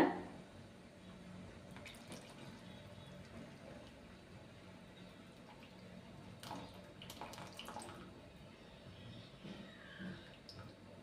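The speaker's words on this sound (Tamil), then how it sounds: "இப்போ இந்த புளி தண்ணியை இதில் சேர்த்துக்கலாங்க" Tamarind water pours into a pan of taro root curry, a soft, steady liquid trickle with a few splashes and clinks, heard fairly quietly without speech.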